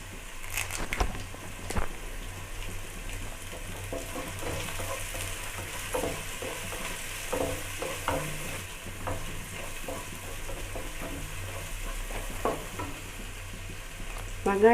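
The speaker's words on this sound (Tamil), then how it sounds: "வெங்காயம் லைட்டாக வதங்கட்டும்." Chopped onions with curry leaves frying in hot oil in a pan for a South Indian vegetable kuzhambu, a steady close sizzle with repeated scraping stirs and light clatter, no voices.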